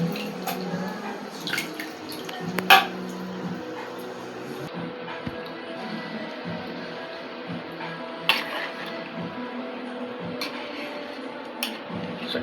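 Tamarind extract poured into a cooking pan: a faint, steady liquid trickle with a few light clinks of utensils in a quiet kitchen.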